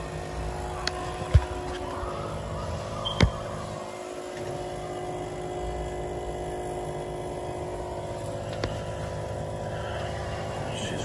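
A failing circulator pump on a Buderus boiler runs with a steady, droning hum and faint rattle throughout, with a couple of brief knocks near the start.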